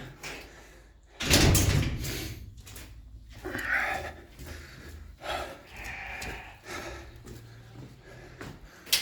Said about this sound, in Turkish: Şu kapıyı bir kapatalım önce.